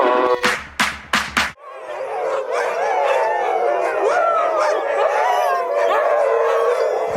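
A pack of about sixty sled dogs at a kennel in the Hautes-Alpes lets out several sharp barks, then breaks into a loud, sustained chorus of overlapping howls and yips close by.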